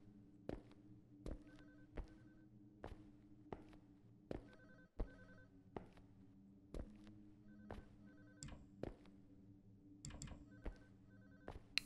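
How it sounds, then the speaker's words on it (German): A telephone rings repeatedly in the horror video game Unspoken, with evenly spaced bell bursts over a faint hum and occasional footsteps, fairly quiet and with no talking. "Ja, fuck, wo kommt das Telefon her?"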